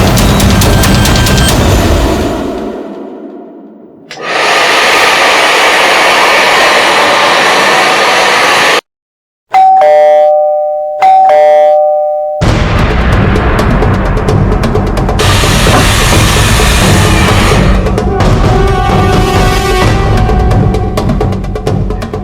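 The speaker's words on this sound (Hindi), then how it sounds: "एसी और हेयर ड्रायर की आवाज के ऊपर भी बेल की आवाज साफ सुनाई दे रही है." A doorbell rings over the loud, steady roar of an air conditioner and a hair dryer indoors. A brief, clear two-note chime stands out for a few seconds midway through the constant broadband noise.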